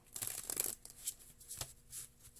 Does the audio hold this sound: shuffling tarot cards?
yes